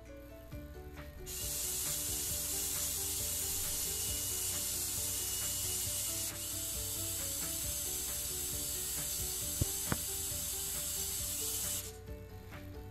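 A Dynamixel smart servo motor controlled by a Jetson TK1 spins with a steady, thin mechanical whir. The whir starts after a second, holds evenly for about ten seconds, then stops, with a couple of small clicks along the way.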